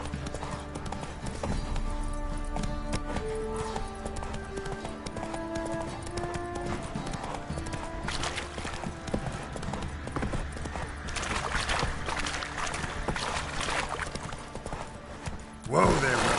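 A horse gallops in The Witcher 3: Wild Hunt, rapid rhythmic hoofbeats thudding steadily and close up for most of the stretch, with music and game voices underneath and a sharper burst near the end.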